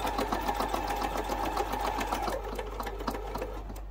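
Sewing machine stitching a quilt, a rapid steady needle rattle close by, running continuously and easing slightly in speed partway through.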